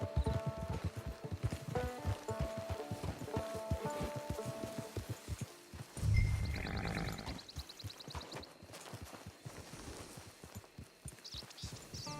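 Horse hooves clip-clop steadily on the ground in Red Dead Redemption 2, a quick regular rhythm of close, moderately loud steps, with a brief louder swell partway through and a soft rainy wash underneath.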